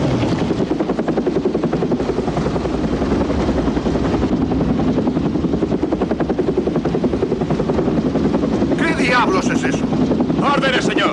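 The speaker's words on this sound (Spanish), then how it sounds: "¡Suba el helicóptero, señor!" A helicopter's rotor thuds and turbine roar loudly and steadily in a military scene, with wind buffeting throughout and shouted voices over the engine noise.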